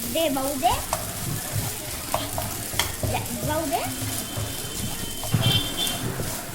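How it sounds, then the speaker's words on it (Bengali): Pasta stirred and fried in a pan with a pinch of garam masala, a close sizzle broken by scraping spatula strokes and clinks, with faint voice-like tones in places. "এটা ভালো করে নাড়াচাড়া করে নেব খুব ভালো করে মিশিয়ে নেব"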